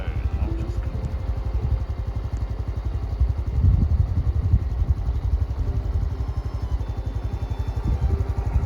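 Honda CT125 postie motorbike ridden along a muddy dirt road in cold, wet Tasmanian weather, a steady close-up single-cylinder engine drone with a rapid pulsing beat, swelling briefly midway beneath wind and road rumble.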